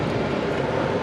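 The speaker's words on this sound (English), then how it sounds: "There's a big noisy truck coming" A big truck rumbles past outdoors, a loud, continuous low engine roar filling the whole moment with no voices over it.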